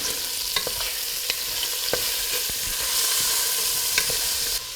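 Green onion frying in a pan for a rockfish green curry soup, a steady broadband sizzle throughout with several sharp clicks and scrapes of stirring, close and alone without talk.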